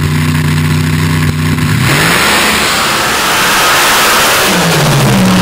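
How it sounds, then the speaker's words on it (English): A 520 cubic inch Hemi drag engine topped with an 1871 Roots blower at a dirt drag race, first holding a loud harmonic engine tone, then bursting into a roaring broadband blast as it accelerates, with rising engine tones returning at the end. "Brad Anderson Hemi with an 1871 Roots blower on top."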